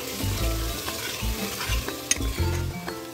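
Potatoes and peas sizzle in a hot frying pan while a utensil stirs and scrapes through them in uneven strokes, close and fairly loud, with no talking.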